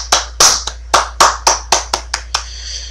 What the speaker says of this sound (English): Big round of applause for Lucian, guys.